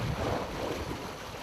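Strong wind blows at sea off Gal-do island during autumn red sea bream fishing from a boat, a steady broadband buffeting rush with water noise beneath it and no speech.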